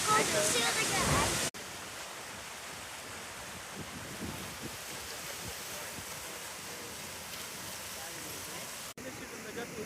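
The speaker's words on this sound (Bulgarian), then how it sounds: "Тук е водопадчето." A small park waterfall pours with a constant hissing rush, loud and close at first, then steady at a lower level, with a voice heard briefly over the water.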